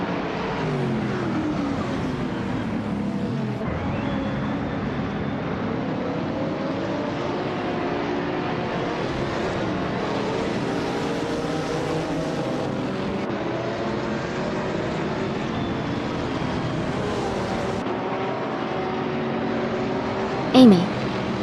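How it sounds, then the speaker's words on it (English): Engine of a 1999 Ford Mustang SV TCS race car in a racing video game, a steady droning roar held throughout with shifting pitch, under a commentator's voice and joined by other cars on the full track. "She's driving a classic 1999 Ford Mustang SV TCS."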